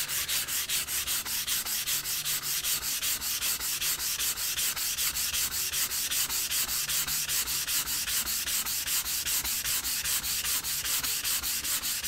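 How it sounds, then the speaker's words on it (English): Steady, rhythmic strokes of sandpaper rasp along the grain of a wooden surface being prepared for pyrography, a close, even back-and-forth scratching that continues without pause. "Always sanding in line with the grain, otherwise you get scratches on the surface."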